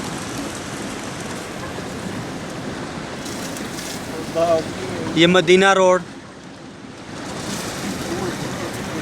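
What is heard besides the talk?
cars driving through floodwater after rain in Jeddah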